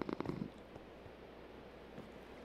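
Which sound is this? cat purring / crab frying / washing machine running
cat purring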